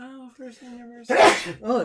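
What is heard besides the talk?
sneeze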